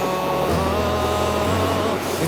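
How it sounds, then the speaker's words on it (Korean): A train rolls past right beside a lodging in Tenma, Osaka, a loud continuous low rumble with steady tonal hum and a faint rise in hiss near the end, no voices over it. "기차가 바로 옆에 지나가요."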